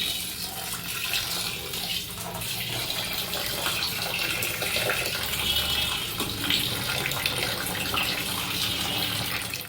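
Water runs and splashes steadily into a vessel, a continuous rushing pour heard close up with no talking.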